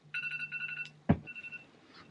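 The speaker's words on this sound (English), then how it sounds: "It's my phone telling me to take my melatonin." A phone reminder alert plays a short, bright electronic chime of stacked tones. A soft thump follows, then a brief second tone, all fairly quiet in a calm room.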